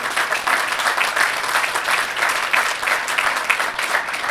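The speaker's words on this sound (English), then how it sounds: "Let's give everybody a round of applause." Applause from a crowd at the Newport News Transportation Center ribbon cutting ceremony, a dense, even wash of many hands clapping close by and continuing steadily.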